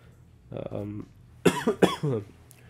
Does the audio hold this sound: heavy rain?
no